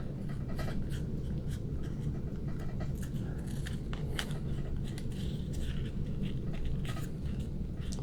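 Paper being folded and creased for a standing origami angel, close rustling and crisp scraping strokes over a steady low background rumble.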